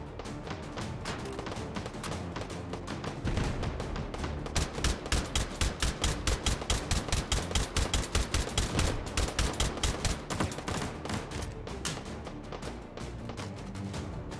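Rapid bursts of automatic gunfire in the VR shooter Hot Dogs, Horseshoes & Hand Grenades, dense repeated cracks building into sustained fire and easing off, loud and close with no talk.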